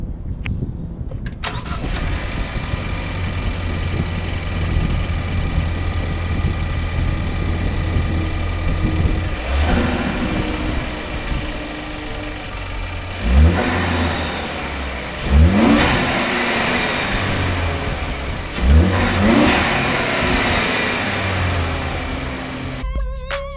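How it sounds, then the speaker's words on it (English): A 2016 Ford Focus ST fitted with a Mountune high flow air filter idles steadily, then revs sharply three times in succession, each blip loud and close with turbo whoosh, before settling back. "the Mountune high flow air filter makes a very big difference in sound, and the turbo sound especially"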